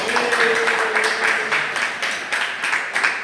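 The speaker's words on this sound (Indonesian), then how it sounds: "Tepuk tangan dong." Classroom applause in a teaching session, a steady wash of scattered handclaps from a group of students lasting throughout, with a faint tonal voice or hum early on.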